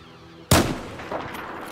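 A single loud, close gunshot in Battlefield 4 cracks out abruptly and then rolls into a decaying boom with some faint trailing rumble.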